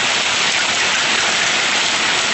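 Hail pours down outdoors in a dense, loud, unbroken hiss of countless hard pellets striking the ground and nearby surfaces, steady from start to finish.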